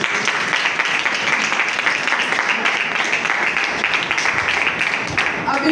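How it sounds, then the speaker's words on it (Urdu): Congregation applauding during a church service, a dense, steady wash of clapping from many hands that holds at even loudness throughout. "تالیاں بجا دیں خداوند کے لیے."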